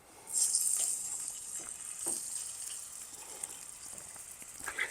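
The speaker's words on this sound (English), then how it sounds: "So now let's just take these and put them in the skillet. We're just going to start browning these off." Chicken pieces sizzle as they brown in a hot skillet, with a steady high hiss and faint crackles throughout and a few small pops.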